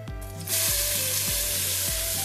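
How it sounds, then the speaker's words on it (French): Olive oil sizzles in a Moulinex Cookeo pot, a loud, bright hiss that starts suddenly and holds steady, over a low rhythmic mechanical hum that pulses about every second, with no voices. "Bon, on va mettre un peu d'huile d'olive."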